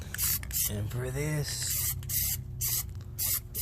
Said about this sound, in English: I'm gonna use a glossifier now to blend it in better